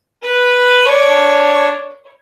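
A single bowed violin note sounds, and partway through a lower string joins in, giving a rough double-stop before the sound fades.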